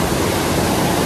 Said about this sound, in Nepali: फेरि यो खोला हेर्नमा सानो हो